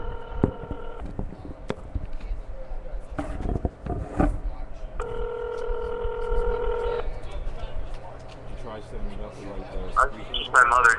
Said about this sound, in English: we're going to make a phone call right now